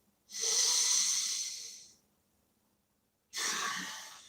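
Two deep breaths close to the microphone: a long, airy inhale lasting well over a second, a pause of silence, then a second breath beginning, quiet and unhurried.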